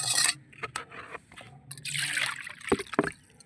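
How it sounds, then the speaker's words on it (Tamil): Vegetable seeds, including long and green eggplant seeds, washed by hand in water, with irregular splashes, trickles and sloshing bursts, close and fairly quiet, no talking. "இப்போ 2வது விதையை நம்ம கழுவ போகிறோம்."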